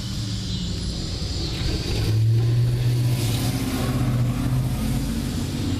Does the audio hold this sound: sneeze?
no